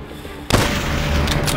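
A single sharp, loud rifle shot cracks out in a Stalingrad 1942 combat game, then an echoing tail and ambient battle noise linger after it.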